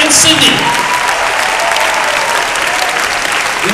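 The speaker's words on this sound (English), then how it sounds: "Another round of applause, please, for the finalists of the World University Debating Championship" Loud, sustained applause from a large audience at the grand final of the World University Debating Championship, a dense continuous roar of clapping close up, with a voice briefly audible at the start.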